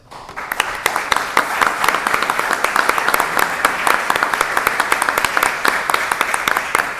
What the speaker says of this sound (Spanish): Pedimos un aplauso para ellos.